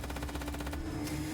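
A drone fires its machine gun in a game, a rapid, even rattle of about a dozen shots over under a second that then stops, loud and up close over a low droning backdrop.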